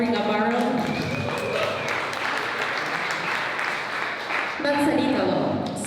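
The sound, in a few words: audience applause at a tech event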